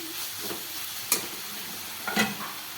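Ridge gourd sautéing in a pan, a soft steady sizzle with a couple of sharper clicks and scrapes from stirring, close and fairly quiet with no voices.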